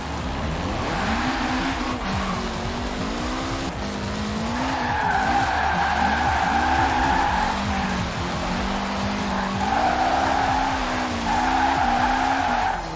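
Forza Horizon 4 game audio of a Lancer Evo VIII drifting in a Tokyo setting, tires squealing in long sustained wails over a steady, wavering engine drone, loud and continuous throughout.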